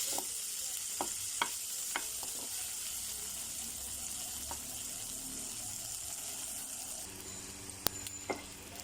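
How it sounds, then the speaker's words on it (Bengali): Sausages frying in a pan on a stove, a steady broadband sizzle with occasional stirring clicks and scrapes throughout, close and even, no talking. "সেম চুলায় আমি আমার সসেজগুলো দিয়ে দিচ্ছি। অল্প হালকা ভেজে নিব সসেজগুলো।"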